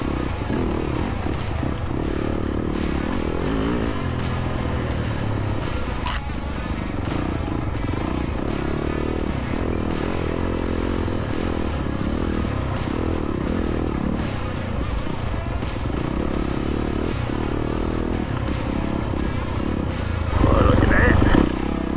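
An off-road motorcycle rides a wooded OHV trail in Tahuya State Forest, its engine droning and revving close for the whole stretch amid clatter and scraping from the rough ground, with a rider talking over it at times.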